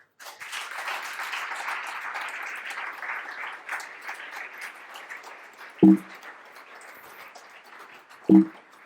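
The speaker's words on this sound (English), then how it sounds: "Another applause for you." Moderate applause from an audience at a tech meetup talk, steady at first and then thinning out, with two sharp low thumps near the end.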